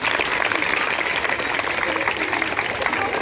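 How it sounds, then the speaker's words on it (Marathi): Children clap for three game winners at a village primary school gathering, a brisk continuous patter of many small hands, fairly loud and close, with some voices mixed in. "तिघेसाठी तिघेसाठी जोरदार टाळ्या वाजवा"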